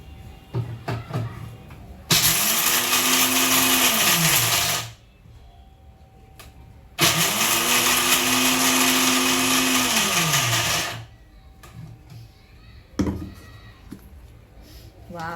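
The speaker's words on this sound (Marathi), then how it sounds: "ठीक आहे, तर आपण थोडं वाटून बघूया" A mixer grinder grinding roasted almonds runs in two loud bursts of about three and four seconds, each whirring up to a steady high whine and winding down, with quieter handling sounds between.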